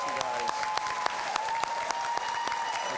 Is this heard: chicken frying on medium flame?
no